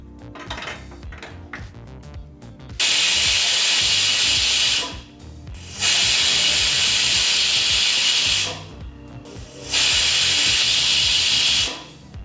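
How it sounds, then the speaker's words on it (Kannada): Pressure cooker on a stove cooking sambar lets out three long loud hissing whistles, each lasting a couple of seconds, separated by quieter stretches of clattering kitchen noise. "ಈಗ ಇಲ್ಲಿ ಕುಕ್ಕರ್ 3 ವಿಸಿಲ್ ಬಂದಾಯಿತು"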